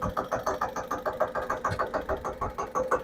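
A mini tractor engine chugs at a low idle in a steady, even rhythm of rapid knocking pulses, fairly close and alone, with no speech.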